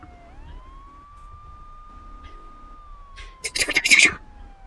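Police car siren in GTA 3, a single sustained wailing tone rising then holding steady over quiet background, ending as a burst of crashing noise and voices breaks in near the end.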